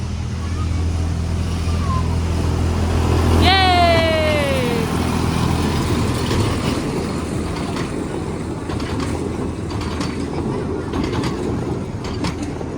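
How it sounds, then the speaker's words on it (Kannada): A train passes near Bal Bhavan in Bengaluru, its horn sounding loudly once with a falling tone, followed by a steady rumbling and rattling roll of wheels; voices murmur faintly in the background. "Can you here train sound ಬರ್ತಾ ಇದೆ."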